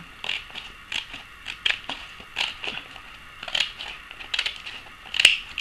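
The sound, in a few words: cutting the lower part of a filter for a protective mask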